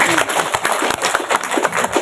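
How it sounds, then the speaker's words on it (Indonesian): Audience at a temple gathering claps hands in a dense, uneven patter of many close individual claps, fairly loud, with some voices mixed in. "tepuk tangan dulu"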